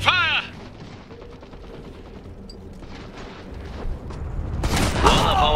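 Gunfire in the strategy game Iron Harvest, with rapid bursts of shots and booms during a battle. A unit's voice cries out near the start and again near the end.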